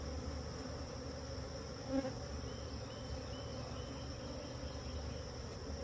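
Russian honey bees from newly installed packages droning steadily around their hive outdoors, a continuous close buzz with a faint passing note, with no talk.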